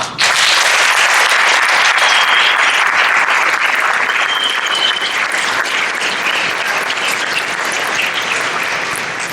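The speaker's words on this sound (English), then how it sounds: "please join me once again in applauding all of our new Honor Society members" Loud, sustained applause from an audience at a National Honor Society induction ceremony for new members, a dense wash of many hands clapping that holds steady and eases off only slightly near the end.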